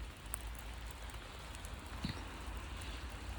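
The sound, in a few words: heavy rain falling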